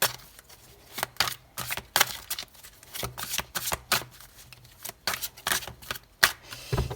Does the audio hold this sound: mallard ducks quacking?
no